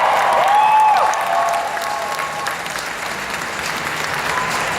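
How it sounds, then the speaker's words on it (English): An audience at a cosplay championship on a convention stage gives a loud, continuous round of applause, dense clapping with some crowd noise and a brief whistle near the start. "Huge round of applause."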